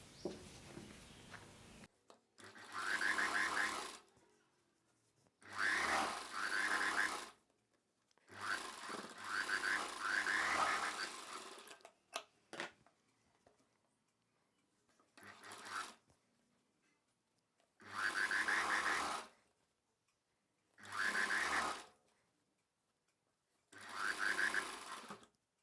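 A sewing machine stitches a belt onto a saree blouse in about seven separate runs of rapid needle whirring, close and clear. Short quiet pauses between runs carry faint handling of the fabric.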